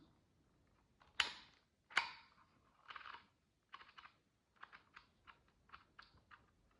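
Keys struck one by one on an old, slightly worn typewriter, sharp isolated clacks at an irregular pace, a couple of heavy strikes followed by lighter, quicker taps, close and clear in a quiet room.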